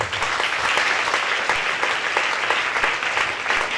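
A church congregation claps loudly and steadily at a testimony service, a dense, sustained wash of applause with no clear cheering voices standing out.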